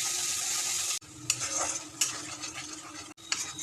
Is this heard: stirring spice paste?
yes